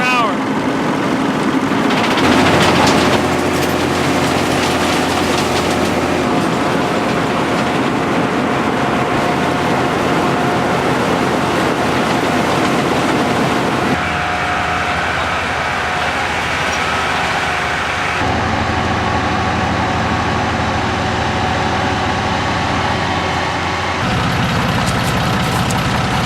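A harvesting machine works a field at night, its leaves running up a chute into a tractor as it moves at about 3.5 to 4 mph. A loud, steady engine and mechanical drone continues throughout, its tone shifting a few times.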